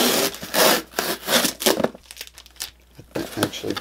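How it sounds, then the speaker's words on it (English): Packing tape being pulled and a parcel torn open, with bursts of rasping crinkle and tearing, a short pause, then more ripping. "let's open this parcel. Hold on, tape."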